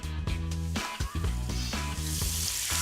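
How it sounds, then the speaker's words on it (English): Mushrooms sizzle steadily as they fry in olive oil in a hot frying pan, a loud continuous crackle with a few brief shifts as the pan or food is moved, no voices. "Then add olive oil to a hot frying pan."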